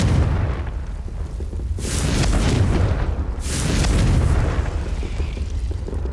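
A Confringo fire spell in the Hogwarts Legacy video game sets off two deep, rumbling explosions in succession over a steady background roar.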